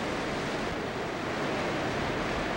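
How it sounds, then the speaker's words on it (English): White water rushing through the cauldron of Grand Falls on the Exploits River in Newfoundland, a steady, dense roar with no breaks, heard alone. "This cauldron of white water was the end of the line for salmon migrating upstream."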